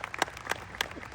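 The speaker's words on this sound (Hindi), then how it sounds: "शानदार तालियां।" Brief, faint scattered handclaps from an audience at a company gathering, a few sharp claps standing out over a quiet hall with no talking.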